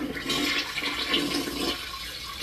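A toilet flush plays as a sound effect on a sports podcast, a loud rushing swirl of water running steadily for a couple of seconds and easing off near the end, with no talk over it.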